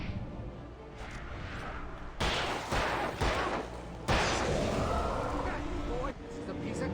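Gunfire in the Alan Wake video game comes as several sharp bursts of shots with a dull boom, over a constant background rumble, while a voice talks under the action.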